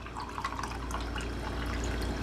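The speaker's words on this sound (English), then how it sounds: "I'm just going to pour it in my teacup" Parsley tea poured from a container into a teacup, a short close trickle and splash of liquid running steadily for a couple of seconds at low volume.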